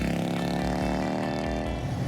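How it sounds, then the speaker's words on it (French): A Morgan Three-Wheeler's V-Twin engine of about 80 horsepower runs in a steady, loud, throbbing rev with a rhythmic low pulse, close by and alone. "un moteur V-Twin qui développe environ 80 chevaux"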